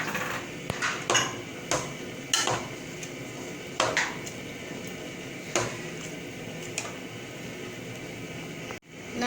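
Rice with chickpeas and green chilies stirred in a cooking pot, a series of spaced metallic clanks and scrapes of a spoon against the pot over a low background hiss, close and alone.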